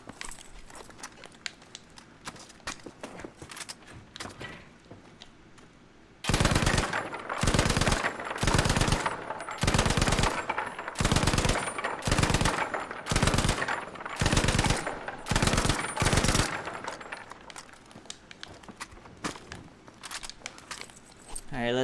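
In Battlefield V, a Bren light machine gun fires in a shooting lane, with sharp bursts of rapid automatic fire in repeated volleys, loud and close, after a quieter opening.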